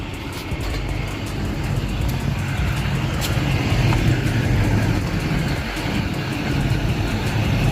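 A pickup truck rolls in and arrives outside a fabrication shop, its steady engine rumble and tire noise continuous and fairly loud, with no voices over it.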